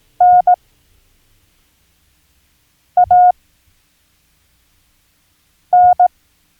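Morse code letter N as a clean electronic tone, a long beep then a short beep, repeated three times with roughly three-second pauses of silence between.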